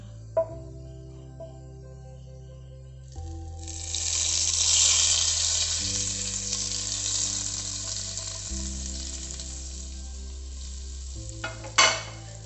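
Steady sizzling of a spice tempering with asafoetida hitting hot oil, loud and close, swelling in the middle and settling, with a couple of sharp clinks near the end.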